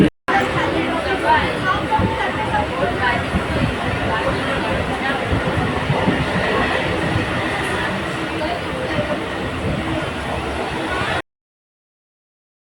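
Interior of a moving Mumbai local train carriage, a steady rumble and rattle throughout with nearby people talking over it, ending abruptly.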